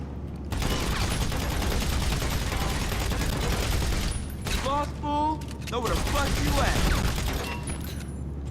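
A full magazine emptied in GTA 5 Online: a long unbroken stream of rapid gunfire, loud and close, with mechanical clatter and a short break partway before firing resumes.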